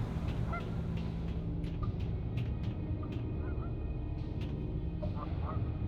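Ambient honking and calls of caged geese or similar fowl in the Alice: Madness Returns video game, scattered short calls over a steady low background hum, with no talking.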